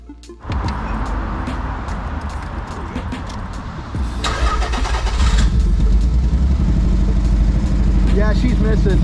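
An old, misfiring Nissan 300ZX cranks and catches, then idles roughly and grows louder and steadier as the engine settles into running, with people talking over it throughout.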